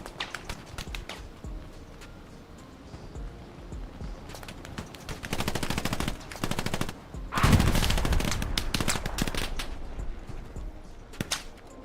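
Automatic bursts of Thompson submachine gun fire in the WWII shooter Hell Let Loose, loud rapid volleys separated by pauses, with one heavier close burst near the middle and scattered distant shots around it, no talking.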